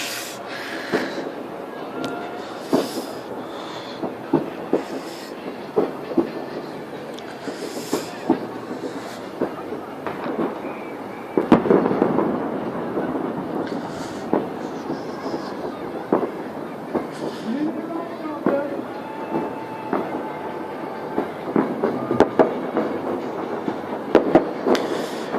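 New Year 2016 fireworks show over Ataköy/Acıbadem, irregular sharp pops and distant booming bursts with crackle, some louder clusters midway, under a murmuring crowd and occasional voices.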